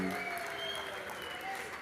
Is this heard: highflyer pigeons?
no